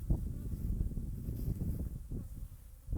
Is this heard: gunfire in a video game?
no